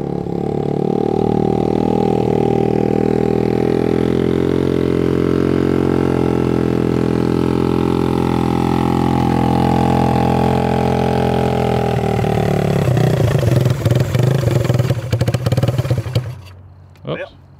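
A 1970s-era Honda CL125 motorcycle, a 125 cc single that sat for 40 years with carburetor trouble, runs loud and steady close by, its engine note shifting near the end before cutting off, with a voice talking over it.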